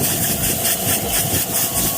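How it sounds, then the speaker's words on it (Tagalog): Air compressor blowing dust off a Hyundai bus, a pulsing hiss of air bursts repeating in quick rhythm over a running engine rumble, close and fairly loud. "Air compressor yung gamit niya mga bayan."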